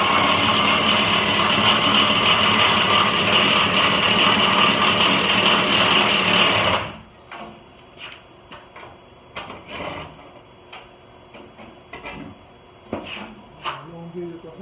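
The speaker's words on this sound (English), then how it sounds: "Alright, try to drill." A power drill bores a hole while Bushwacker flat fenders are installed on a Jeep Wrangler JK, running loud and steady for about seven seconds before cutting off, followed by scattered clicks and handling noises.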